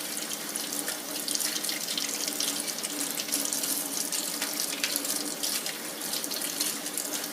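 Sassafras roots are washed under a running sink faucet, a steady close-up rush of tap water pouring and splashing without pause and with no voices.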